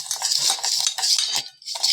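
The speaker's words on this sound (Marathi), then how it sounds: "आणि हे जे आहे हलवत राहायचं आहे एकसारखं." A sugar art mixture being stirred in a pot for a sugar kalash, with repeated scraping and clinking strokes of the spoon against metal, close and rhythmic, with no talk.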